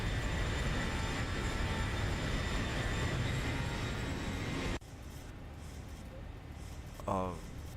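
Boeing 737 jet engines roaring at takeoff power in the X-Plane 12 flight simulator, a loud steady rumble that abruptly drops in level partway through and continues at reduced power to the end.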